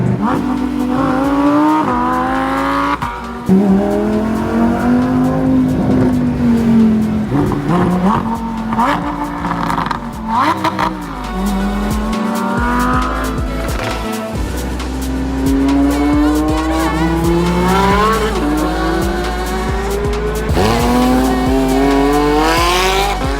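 Porsche GT3 and Lamborghini engines revving hard with rising and falling pitch, loud and close, mixed with repeated tire squeals throughout.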